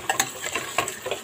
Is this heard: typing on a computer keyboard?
no